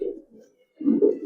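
A pigeon with a flowered head coos up close, two soft, low throaty bursts separated by a brief pause, with no other sound.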